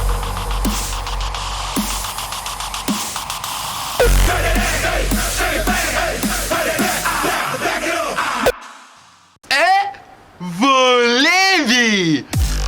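Dark horror EDM build-up produced in FL Studio: dense, pulsing layered synths and drums rise in intensity, break off abruptly, then give way to chopped, pitch-bending vocal stabs.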